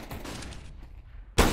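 Gunfire in the video game Counter-Strike: a rattling burst of shots early, a quieter lull, then a sudden sharp, loud gunshot at the end, with no talk.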